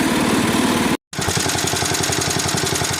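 A 1961 IH Cub Cadet Model 70 garden tractor with a 7 hp Kohler single-cylinder engine runs loudly up close with a fast, steady, chugging rhythm, broken by a brief cut before the engine note resumes.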